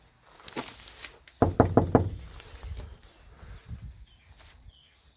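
Knocking on a door at a cemetery in Little Clacton-on-Sea comes as a quick series of four loud, close raps in a row, followed by fainter rustling and scattered background sounds.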